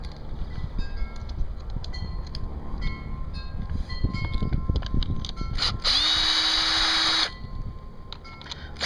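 A power drill whirs at a low, steady speed for a couple of seconds, loud and close, after a stretch of clattering handling noise, while a Hunter sprinkler control valve is opened up for repair.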